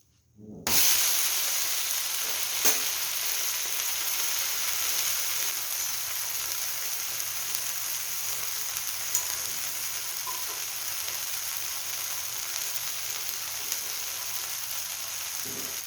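A dosa fries on a hot pan with a steady, close, loud sizzle that holds almost unbroken after starting abruptly, with a few small ticks and crackles as it is flipped.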